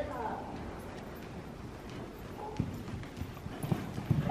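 A horse cantering over a jumping course, its hoofbeats thudding in a quick, even rhythm close by and growing louder and sharper toward the end, with people talking in the background.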